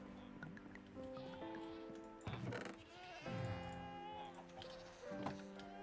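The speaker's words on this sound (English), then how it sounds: "That sounds like a screaming goat." A goat in a farming video game lets out long, wavering, scream-like bleats that sound close and steady, with no talking over them.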